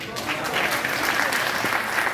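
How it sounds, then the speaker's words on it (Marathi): Audience applause at a music academy director's birthday celebration, a continuous dense wash of clapping from a crowd, steady and fairly loud for the whole short stretch. "त्यांच्यासाठी पण सगळ्यांनी जोरात टाळ्या वाजवा"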